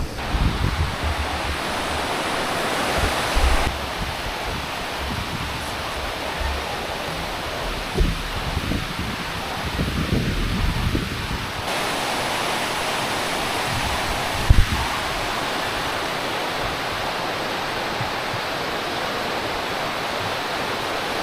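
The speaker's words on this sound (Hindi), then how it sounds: "और यहाँ से ये आप देखें साफ शफाफ पानी" Clear mountain stream water near Kargah Buddha outside Gilgit rushes steadily in a broad, constant wash, loud and close, with faint background murmur and a brief knock partway through.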